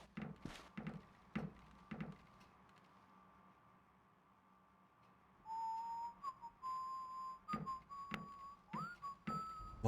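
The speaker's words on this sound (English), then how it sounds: "Love that it's the same whistle every time." In the stealth video game Splinter Cell, a character whistles a wavering tune that rises and falls, heard clearly over quiet ambience after a few sharp clicks and knocks, with more clicks continuing around it.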